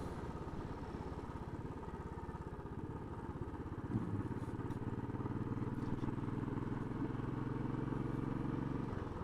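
Royal Enfield single-cylinder motorcycle climbing a hill in fifth gear at about 40 mph, giving a continuous steady engine thump and drone with wind rush, close and even throughout.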